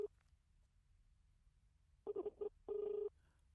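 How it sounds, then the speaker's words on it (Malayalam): The ringback tone of an outgoing telephone call sounds faintly: a short broken burst of beeps, then one longer steady tone, with near silence around them. "സാർ റിങ് പോകുന്നുണ്ട്."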